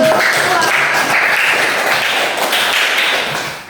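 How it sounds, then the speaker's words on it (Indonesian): Classroom applause for a student group after a presentation in an elementary class, a continuous wash of many hands clapping nearby that holds steady, then fades slightly at the end. "tepuk tangan untuk kelompok 1"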